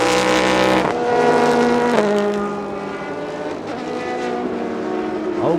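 GT3 race cars battle on track in a 2019 race, engines screaming loudly and shifting pitch as they pass, with rising and falling whines and gear changes layered over one another.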